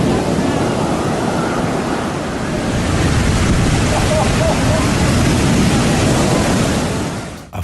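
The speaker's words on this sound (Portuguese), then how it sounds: "as ondas do oceano chegam à costa com força total" Powerful ocean waves pounding the shore at Lumahai beach on Kauai, a loud continuous roar of surf with rolling surges and wind rumble, close up and without voices.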